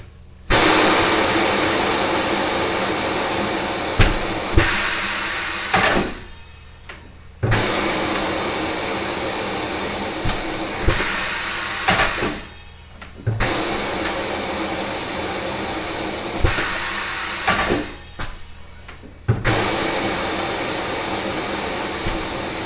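A tire changer breaking the bead on an Audi S8 wheel, with long loud pneumatic hissing bursts that repeat several times, separated by brief pauses and clunks.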